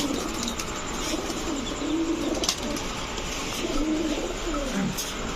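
A pair of racing pigeons, one Iraqi-tagged and one from the Netherlands, coo in low rolling phrases over a constant hiss of background noise, repeated several times at moderate loudness.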